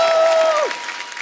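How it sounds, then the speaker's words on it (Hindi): A studio audience on a comedy talk show claps together, a dense burst of applause with a sliding tone fading underneath, tapering off toward the end. "तो एक बार अक्षय बाजी और परिणीति के लिए जोरदार तालियां हो जाए"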